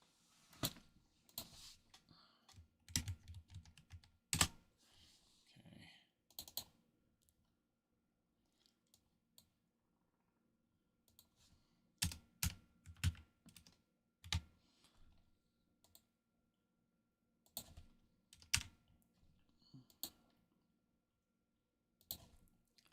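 Computer keyboard typing in irregular bursts of clicky keystrokes, close and fairly quiet, with pauses between runs and no talking.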